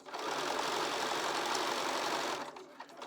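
Sewing machine stitching minky fabric, a steady close whirring buzz running for about two and a half seconds before stopping, then faint handling noise.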